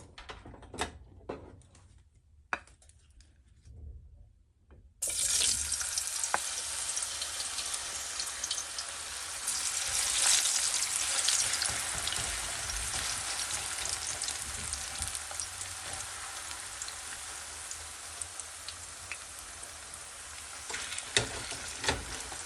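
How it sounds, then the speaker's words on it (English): Homemade French fries hit a hot skillet and sizzle loudly and steadily, a dense hissing fry that starts abruptly after a few quiet seconds of faint clicks and carries on without talk. "All right, so the skillet is hot. All right, so now we're gonna add the fries, okay?"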